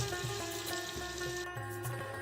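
Potato and ash gourd pieces frying in hot oil in a pan, a close, steady sizzle with soft stirring scrapes recurring every half second or so, no voices.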